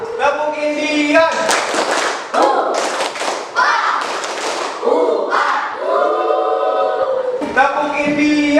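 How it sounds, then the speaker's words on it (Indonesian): A school class performs the Tepuk Indian ice-breaker, sharp bursts of group clapping alternating with loud chanted group vocals in a rhythmic call-and-response pattern. "Biasanya tepuk apa? Tepuk ini, ya siap. Tepuk Indian."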